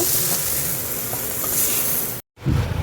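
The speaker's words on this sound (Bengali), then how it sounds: "চিংড়িটা একটু লাল লাল করে ভেজে নেব" Shrimp frying in a pan for a shrimp bharta, a continuous bright hiss and crackle of hot oil that cuts out briefly and then resumes sizzling strongly.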